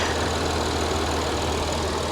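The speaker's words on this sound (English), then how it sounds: "Really surprised it's a V6. It's so quiet." A naturally aspirated Cadillac 3.6-litre VVT V6 idles close by at a dealer auction with a steady, even hum, smooth and unbroken, with no talking.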